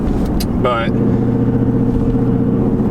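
A car with a loud built engine and aftermarket exhaust, heard as a steady, droning idle with a brief rising rev near the start, while a person speaks over it.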